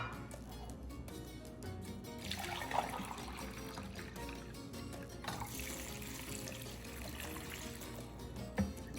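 Vinegar pouring steadily into a container for pickling vegetables, garlic and jalapeños, a continuous close splashing gush like a running tap with brief brighter surges throughout.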